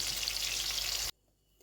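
Steaks sizzling in melting butter in a frying pan with the heat just switched off, a steady loud crackling hiss that cuts off abruptly partway through, leaving near silence.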